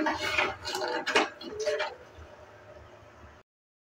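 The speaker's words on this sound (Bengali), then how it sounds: "দেওয়ার পর নেড়ে চেড়ে নিচ্ছি।" A spoon stirring one cup of sugar and one and a half bowls of water in a pot on the stove, a few close scraping knocks against the metal while someone talks.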